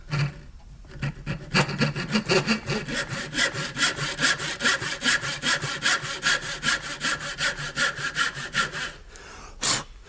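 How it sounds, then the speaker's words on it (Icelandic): A small hand saw cuts into a golf ball held fast, a steady run of quick rhythmic rasping strokes that is close and loud, with a brief pause near the end before one last stroke. "Svo er einn svona lítil sög. Getum prófað hana."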